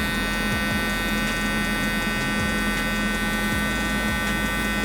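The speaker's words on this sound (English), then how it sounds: "I'm going to be using my Gamma Evo X trimmer" A Gamma Evo X hair trimmer cuts a high fade, a steady close electric buzz with a constant hum running throughout, no talking.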